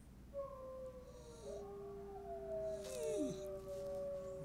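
Wolf howl played back through a smart speaker, long sustained wavering tones that rise and fall, with overlapping howls in the middle, fairly clear against a quiet background.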